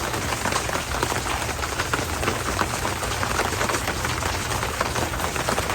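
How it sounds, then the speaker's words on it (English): Steady rain falls outdoors during repair work on a Powerstroke diesel truck's DPF and EGR delete, a dense, even patter on surfaces that holds at constant loudness for the whole stretch, with no voices. "It's raining"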